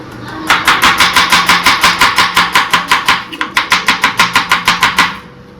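Rapid, even knife chops on a cutting board while vegetables are cut up for breakfast, about twenty sharp strikes in two steady runs with a short break between them, close and loud.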